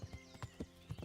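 Horse hooves clop in an uneven walking rhythm, close and clear, in the medieval role-playing game Kingdom Come: Deliverance, with no speech over them.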